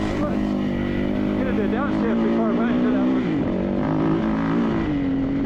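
A dirt bike engine drones and revs steadily up close during an off-road Grand Prix race in deep rutted terrain, its pitch rising and dipping with the throttle, with a rider's voice talking over it.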